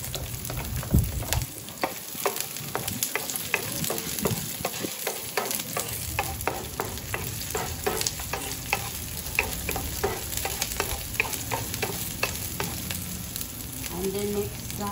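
White onions fry with bean sprouts and cooked bacon in a pan. A loud, continuous sizzle is broken by a run of clicking stirring taps, heard up close and without talk.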